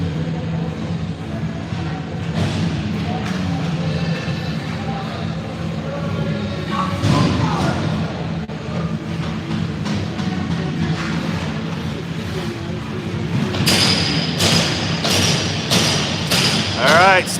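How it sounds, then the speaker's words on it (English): Ice hockey sticks clanging and banging at center ice during a youth AAA game in a rink, with repeated sharp clacks and thuds over crowd and arena noise, and a burst of rapid hits near the end. "sticks are clanging, banging"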